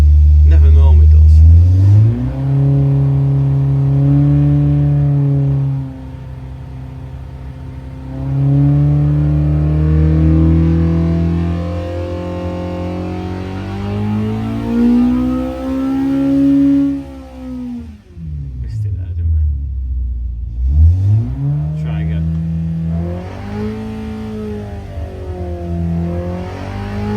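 An Audi with its exhausts fallen off revs hard on a dyno. The loud, raw engine note sweeps up and down through several climbing pulls, then drops and climbs again.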